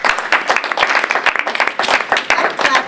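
Audience applause at a United Nations spirituality awards event, dense rapid clapping from many hands, loud and close, continuing steadily for a few seconds without talk.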